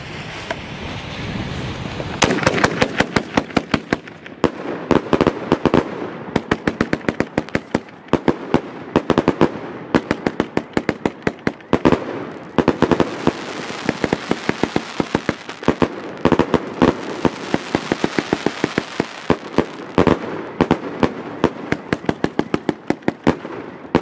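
A Genesis firework battery firing 80 shots outdoors, a long rapid string of sharp cracks and booms, dense and loud, running continuously for over twenty seconds with no talk.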